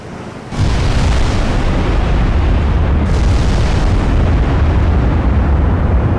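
Battleship main guns fire in the naval video game Ultimate Admiral Dreadnoughts, a sudden very loud blast that becomes a sustained, roaring, booming wall of noise lasting several seconds, with no talk.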